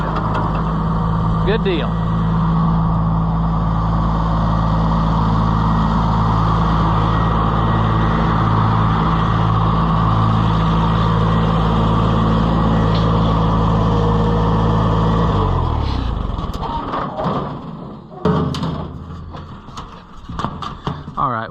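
An Oliver 880 tractor engine idles steadily and loud with a Rockford over-center clutch engaged, a low throbbing drone that cuts off sharply partway through, leaving clunks and a brief spoken comment.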